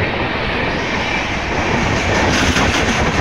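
Kochuveli–Chandigarh superfast express hauled by a WAP7 electric locomotive passing at speed, a loud, continuous close rumble with rushing wheel noise and faint rhythmic clatter, no voices.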